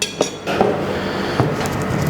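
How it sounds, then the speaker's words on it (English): Whole fennel and cumin seeds are ground in a pestle and mortar, giving a close, gritty crunch and scrape with a couple of sharp knocks of pestle on bowl, all within a couple of seconds. "We just grind the whole spices into a nice powder."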